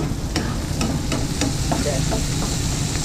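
Vegetables and chili stir-fried in a pan for a Northern Thai home dish, with a continuous close sizzle under repeated sharp scrapes of the spatula against the pan.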